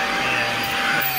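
A big corded 5-amp home-style vacuum cleaner with a strong beater bar runs inside a camper van, giving a steady, loud, even roar with no breaks or talking.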